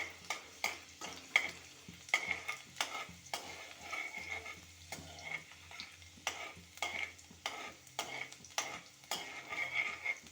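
Fish sautés in a pan while it is stirred in rhythmic, repeated scraping strokes over a faint, quiet sizzle.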